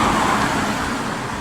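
Road traffic rushes past close by in a loud, continuous roar that eases off only slightly over a moment and a half, with no voices.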